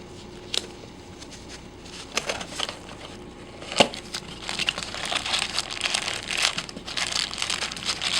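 A plastic package wrapped around a new rubber gate valve crinkles and crackles close by, with uneven bursts and a sharp rustle near the middle.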